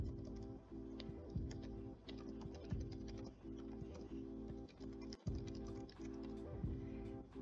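Keys tapping on a computer keyboard as an email address is entered, a steady run of light close clicks with brief pauses, quiet and alone without voices.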